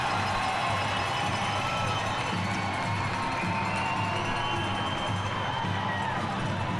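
An ice hockey crowd at a Blue Ridge Bobcats versus Pee Dee IceCats game roars steadily in an arena as a player leaves the ice, a loud continuous wash of cheering with whoops and a commentator's voice.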